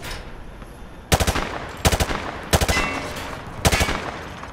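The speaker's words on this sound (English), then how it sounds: "Grab that weapon off the table and fire at the targets behind you." Weapon fired at targets on a Call of Duty MW2 Remastered range: four loud, sharp bursts of rapid automatic fire spaced about a second apart, each a quick rattling cluster of shots, with no talking.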